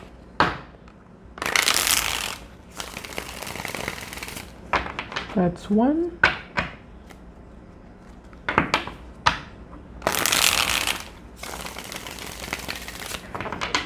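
Tarot cards being shuffled at close range, two separate riffling bursts with soft handling noises between them and a brief spoken remark in between.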